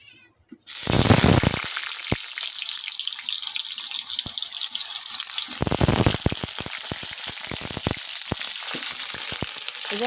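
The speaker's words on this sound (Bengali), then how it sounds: "এদিকে আমার তেল গরম হয়ে গেছে এখন দিয়ে দেবো পটল" Pointed gourd (potol) pieces dropped into hot oil burst into a loud, steady sizzle that runs continuously, with a few close clicks and clatters of the pan and utensil over the top.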